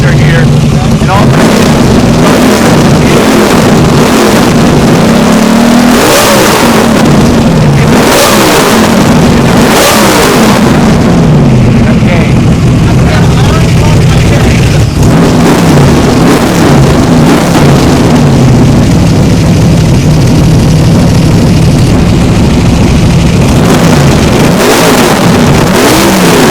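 A NASCAR-style Cobra race car engine idles roughly in a shop and is revved hard in repeated bursts, very loud and close, with someone speaking intermittently between the revs.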